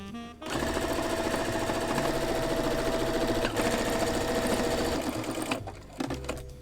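A sewing machine stitches fabric scraps for a quilted patchwork jacket, running loud and continuous for about five seconds before stopping, then a few short bursts.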